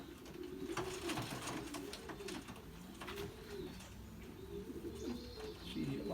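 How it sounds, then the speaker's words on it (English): A young two-month-old pigeon gives soft, low, rolling coos that repeat across the whole stretch. Faint background noise and a few light chirps sit around them, and no speech is heard. "She's a real young 2-month-old pigeon"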